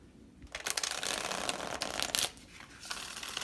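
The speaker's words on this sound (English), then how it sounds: "One more shuffle, you guys." Tarot cards are shuffled close up in a continuous papery riffling, with a few sharper flicks and a brief pause before shuffling resumes.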